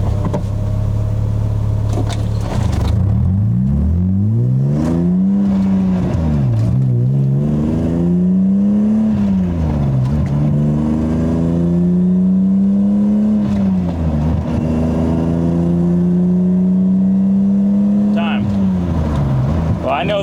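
BMW E36 accelerating hard from a standstill, engine revving up through several gears with pitch climbing and dropping at each shift, loud and close throughout.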